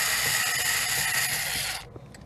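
Bolts are backed out of a Stern Pirates of the Caribbean pinball machine with a steady, loud ratcheting whir that runs close up for nearly two seconds, then cuts off into quiet.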